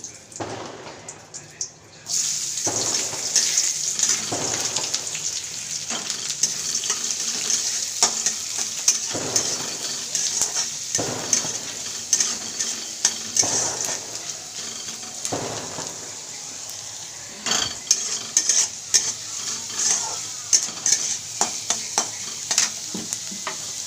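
Onions fry in hot oil with cumin seeds and bay leaves for a mushroom curry, giving a close, steady sizzle broken by repeated scraping stirs of a spoon in the pan, with occasional voices in the background.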